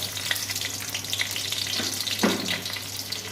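Panch phoron with dried and green chillies crackles in hot mustard oil, a close, bright continuous sizzle dotted with small pops and a stir or two.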